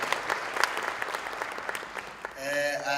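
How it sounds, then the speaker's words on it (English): Applause from an audience at a mayoral ceremony honouring top-performing schools and matriculants, a dense, steady patter of many hands clapping at moderate distance, fading out into a sustained tone at the end. "Can you give me another big round of applause?"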